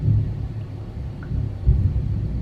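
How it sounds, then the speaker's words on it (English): Thunder before a storm rolls as a low, continuous rumble that swells slightly near the end, heard alone without talk. "No, that's thunder."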